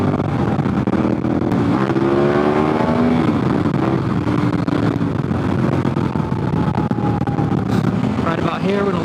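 An adventure motorcycle on Heidenau K60 Scout tires rides fast along a twisty highway, its engine rising and falling in pitch through gear changes under steady loud wind rush, while a rider talks throughout.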